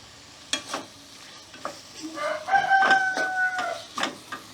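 Bitter gourd stirred with dried fish in a frying pan, a soft sizzle under several scraping strokes of a utensil, with a rooster crowing in the background midway.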